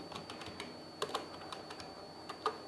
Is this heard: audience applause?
no